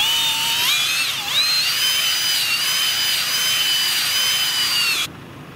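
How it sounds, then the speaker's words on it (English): A power drill whines loudly and steadily while drilling out a bait hole for coyote trapping, its pitch dipping briefly under load before holding a high, wavering tone for about five seconds, then cutting off. "Get our bait hole drilled back out."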